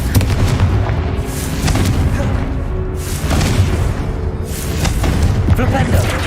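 Repeated Confringo fire-blast spells in Hogwarts Legacy, loud booming bursts with crackling tails during hard-mode combat, recurring every couple of seconds over dense game noise.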